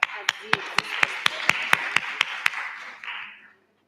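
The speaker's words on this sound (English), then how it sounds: "Let's clap for" A small audience claps for a presenter at an innovation pitch competition, with about ten sharp, evenly spaced claps standing out over a broad patter of applause that fades away after roughly three seconds.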